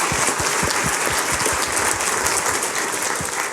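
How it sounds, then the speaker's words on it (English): An audience at a conference panel on regulation and self-determination applauds a speaker, a thick, continuous patter of many hands clapping, steady and fairly loud throughout. "John Small, give him a big round of applause,"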